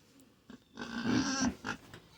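Farm pigs grunt and oink in a short, fairly loud burst of snorting grunts near the microphone, with a few quieter grunts before and after.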